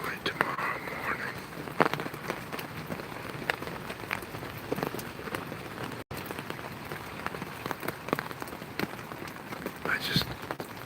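A North Carolina rainstorm pours down in a continuous close hiss, with frequent crisp drops and patters striking a nearby surface, steady and unbroken apart from a momentary dropout midway.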